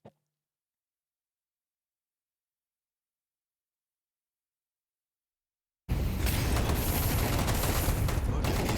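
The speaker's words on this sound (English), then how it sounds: "Tech9 shots" Tec-9 pistol fire in Counter-Strike 2 on Vertigo during a professional match, bursting in abruptly after several seconds of silence as a dense, loud, continuous clatter of rapid shots.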